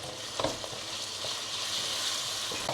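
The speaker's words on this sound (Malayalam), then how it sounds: "ഇത് നല്ലപോലെ കിടന്ന് മൂക്കട്ടെ." Masala paste with onions and curry leaves frying in a pan for a Kerala-style beef liver fry, giving a steady close sizzle with a few brief stirring scrapes and no talking.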